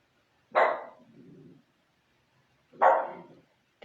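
A small pet dog barks twice, sharp and close, with a brief low growl or whimper trailing the first bark and quiet pauses between.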